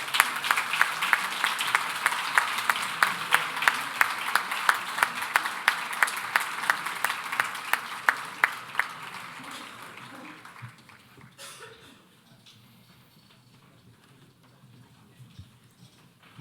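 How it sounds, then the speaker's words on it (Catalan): A crowd applauds award-winning students at the Jordi Pujiula awards ceremony: dense, steady clapping for about eleven seconds, then it fades out, leaving a quiet room. "Un fort aplaudiment per a ells."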